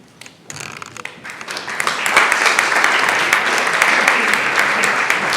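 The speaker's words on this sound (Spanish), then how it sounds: "Esperen a escucharme antes de aplaudir." Applause at an anti-mafia congress builds from scattered claps into full, sustained clapping from a large audience in a hall, with a little talk underneath.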